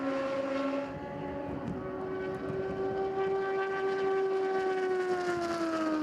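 Prototype race car engine at Daytona International Speedway during the 2015 SCCA National Championship Runoffs, a steady loud high-pitched whine with a slowly rising and falling pitch, sustained throughout as the car runs a lap.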